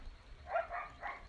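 Dogs, larger than puppies, give a few faint barks indoors, three short yips in quick succession over a low background hum.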